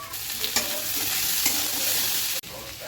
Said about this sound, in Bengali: তো এই পেঁয়াজগুলো দিয়ে আরেকটু ভাজা করব, পেঁয়াজটা একটু ভাজা ভাজা হয়ে যাবে